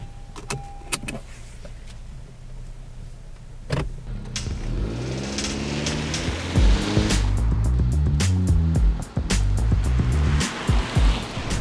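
A 2017 Honda Civic Hatchback Sport Touring starts up after a few faint clicks, then its engine hums and builds into a steady driving drone with changing pitch, heard close and loud with no talking.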